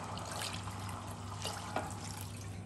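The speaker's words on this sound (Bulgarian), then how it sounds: "и веднага след това добавете половин литър бульон" Chicken broth poured into a pot while stewing chicken with onions, a steady liquid trickle and splash heard close up over a constant low kitchen hum.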